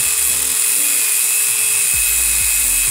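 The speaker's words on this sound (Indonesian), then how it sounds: "kita gerinda untuk dratnya dari ukuran-ukuran yang sudah kita buat" An angle grinder cuts thread into iron stock for a manual bar-bending tool, giving a steady, high-pitched whine that runs on without a break at close range.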